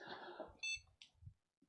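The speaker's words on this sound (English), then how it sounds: "that's the post beep" Computer POST beep at startup, a single short electronic tone after a bit of throat noise, quiet and close in an otherwise still room.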